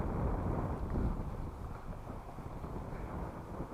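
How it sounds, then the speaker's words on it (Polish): Strong wind on a riverbank roars and buffets the microphone in a steady, heavy rush, louder at first and then settling into a continuous blustery hiss with no voices. "jest teraz potężny wiatr"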